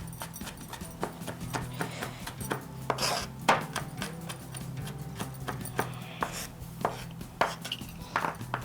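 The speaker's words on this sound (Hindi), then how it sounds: "हम इसको जिंजर गार्लिक को मिक्स करके चॉप कर लेंगे" A knife chops roughly mixed ginger and garlic on a board for tawa kaleji, a fast run of sharp, close taps repeating steadily throughout, with some a bit heavier than others.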